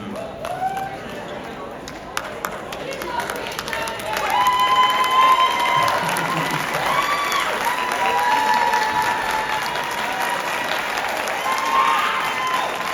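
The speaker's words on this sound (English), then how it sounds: "One more round of applause for Blue Steel 5th period" A school audience applauds and cheers for the Matanzas High School Blue Steel band at a holiday show, with the clapping swelling louder after a few seconds and voices calling out over it.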